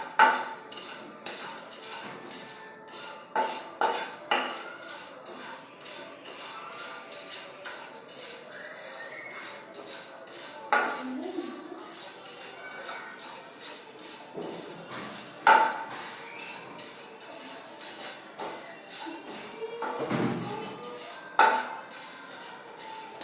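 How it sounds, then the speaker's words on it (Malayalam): Flattened rice (aval) stirred in a pan over a lowered gas flame: repeated close scraping and clinking of a spoon against metal in an irregular rhythm, with no sizzle. "എന്നിട്ട് ഇത് നന്നായിട്ട് ഇളക്കി കൊടുക്കുക, ഒന്ന് കളർ മാറുന്നതിന് വരെ."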